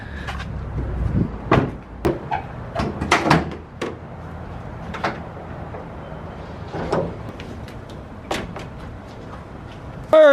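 Doors on a Honda Odyssey van are unlocked and opened, with a series of sharp clicks, thumps and latch clacks scattered over steady outdoor rumble, ending in a louder close bump.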